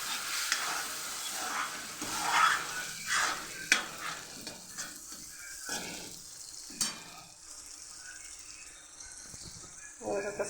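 Vegetables stir-fried in oil with a little added water give a sizzling, scraping cooking sound with repeated stirring strokes, near and moderately loud, while someone talks over it at times.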